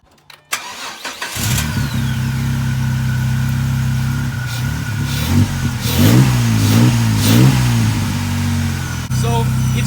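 A Jeep engine cranks and catches using a Duracell portable jump starter, then settles into a loud, steady idle with a few revs rising and falling partway through, under some talking.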